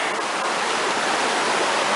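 Creek water rushes steadily over rocks at low water on a rocky mountain stream crossing, a loud, continuous broadband splash and gurgle close by with no voices.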